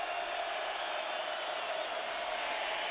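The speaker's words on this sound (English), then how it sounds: "Here comes the crowd noise again." Steady roar of a college football stadium crowd at Oklahoma, a dense, even wash of distant noise holding constant throughout with no distinct voices standing out.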